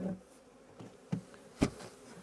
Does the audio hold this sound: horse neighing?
no